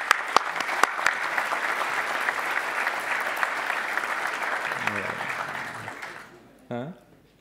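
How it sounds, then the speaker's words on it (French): An audience claps for four award winners at a conference on the Produit en Bretagne regional brand, with dense, sustained applause that fades out near the end, followed by a brief voice. "Voilà déjà nos 4 lauréats, on peut peut-être commencer par les applaudir"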